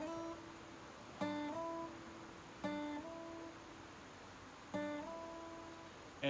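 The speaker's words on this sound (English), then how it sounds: "So that's a hammer-on, and then of course you have your slides." Acoustic guitar notes picked and then slid up the neck, three separate phrases each starting with a bright plucked attack and gliding to a higher pitch, played close and alone with no talking.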